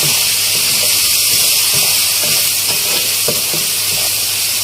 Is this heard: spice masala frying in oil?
yes